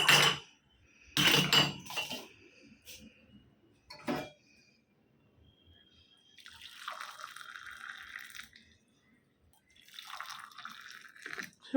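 Hot water poured from a kettle in a home kitchen after morning worship, heard as intermittent clatter and dripping followed by two sustained splashing pours, moderately loud and close, with no talking.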